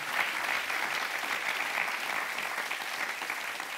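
A conference audience at DLD summer gives sustained applause for David Agus, a dense, even wash of clapping from many hands that holds steadily throughout with no voices over it.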